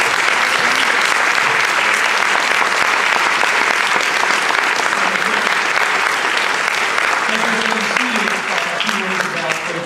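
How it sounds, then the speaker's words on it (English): Sustained audience applause at a film festival panel discussion, loud continuous clapping from a crowd that holds steady throughout, with faint voices emerging near the end. "why don't we give Mark a big round of applause for this film"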